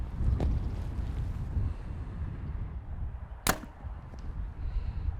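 Wind blows steadily outdoors during archery practice, a constant low rumble buffeting the microphone, with a single sharp snap partway through, likely an arrow release, and no talking.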